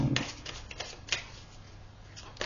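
A tarot card is drawn from a deck with a few soft, quick card snaps and slides at close range, spaced unevenly against a quiet background.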